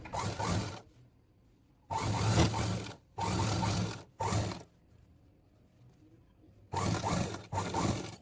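A sewing machine runs in short bursts while stitching cigarette pant fabric, five or six quick runs of mechanical whirring separated by quiet pauses, close and fairly soft.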